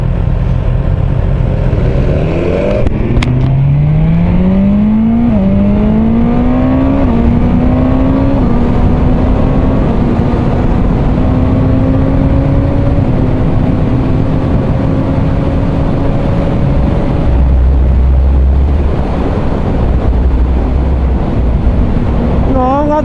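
A BMW S1000R naked motorcycle carries its rider along, engine and exhaust droning loud and close with rising and falling pitch through the gears, and heavy wind rush over the microphone throughout.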